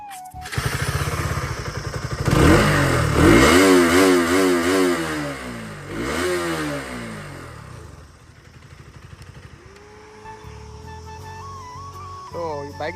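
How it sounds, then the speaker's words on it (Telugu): A second-hand KTM RC 200 motorcycle's exhaust roars close by as the engine is revved repeatedly, rising and falling in pitch before settling to a lumpy idle; a voice speaks over it toward the end. "ఫస్ట్ అయితే దీన్ని ఎగ్జాస్ట్ నోట్ నుంచి స్టార్ట్ చేద్దాం."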